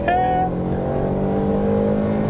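Ford Mustang EcoBoost engine pulling under acceleration in normal drive mode, a steady, smooth mid-pitched drone with rising harmonics, heard close from inside the cabin.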